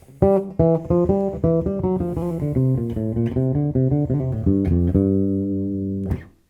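An unaccompanied bass guitar plays a flowing melodic line of many plucked notes, ending on a long sustained tone and a faint string squeak.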